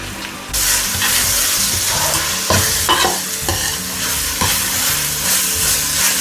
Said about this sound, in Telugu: మసాలా వేసాక అడుగంటుతుంది అన్నమాట కింద. సో వేసాక మనము ఇలాగ కలుపుకుంటూ అయితే ఉండాలి